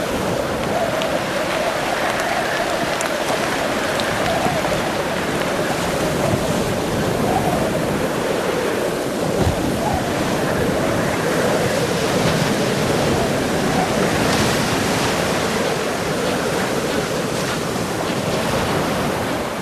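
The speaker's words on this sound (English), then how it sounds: "Rapid fronts and squalls continually sweep in from the ocean wastes, blasting everything in their path." Powerful ocean surf pounds under squally winds at the stormy southern tip of Chile, a dense, continuous roar of crashing waves and gusting air with wind buffeting the microphone throughout.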